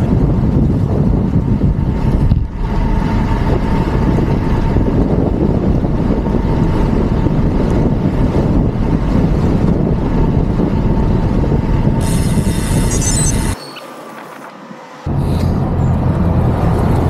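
A strong headwind roars across the microphone of a road cyclist riding at about 30 km/h, producing loud, continuous buffeting that drops out briefly near the end.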